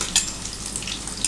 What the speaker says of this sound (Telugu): ఆనియన్స్ బాగా ఫ్రై అయిన తర్వాత